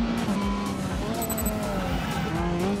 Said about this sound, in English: Yeah, I think we've got a double downshift there.